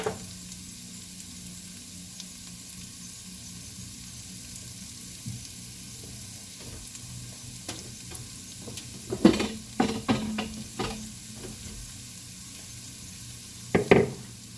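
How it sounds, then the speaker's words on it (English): Mexican fried rice browning in a pan with a steady, low sizzle throughout, broken later by a few sharp clusters of stirring clatter near the end. "Let that brown."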